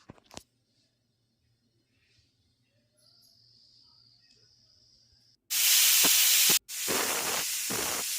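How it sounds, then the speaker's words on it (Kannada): After a quiet stretch with a faint whine, a pressure cooker cooking mutton sambar lets out a loud, rushing hiss of steam, breaking briefly before blasting on. "ಎರಡು ವಿಜಿಲ್ ಬಂತು. ಬನ್ನಿ ಕುಕ್ಕರ್ ಓಪನ್ ಮಾಡೋಣ"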